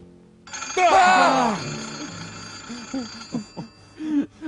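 A telephone bell rings in the old film Teen Age Crime Wave, a bright metallic ring near the start that lingers while voices speak over and after it.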